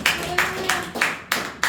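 A church congregation claps in praise to the Lord, six loud, evenly spaced claps in a steady rhythm, with a faint sustained tone underneath.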